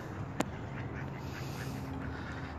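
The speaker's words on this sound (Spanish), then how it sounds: "Aquí están los patos, mire." Ducks quacking over a steady outdoor background near a spring, with one sharp click near the start and no talking.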